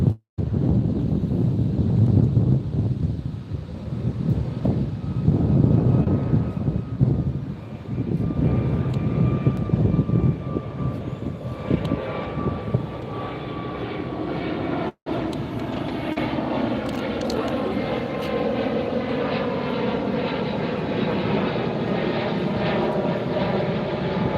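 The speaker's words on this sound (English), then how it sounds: "United Airlines headed to Chicago, Airbus 321." A United Airlines Airbus A321 airliner passes overhead near LAX beach, its engine roar swelling loud then trailing off into a long, fading rumble with wind noise.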